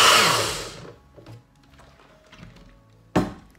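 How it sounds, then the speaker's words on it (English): Countertop blender whirring through a green smoothie made with water and fruit, a loud burst of motor noise that winds down quickly, followed by faint clinks and a sharp knock near the end. "and then just blend it."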